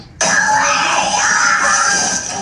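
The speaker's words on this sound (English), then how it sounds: "Is that screams of like anger or joy?" A child screams loudly and without pause, one sustained high-pitched shriek that begins abruptly and holds steady for over two seconds, close to the microphone.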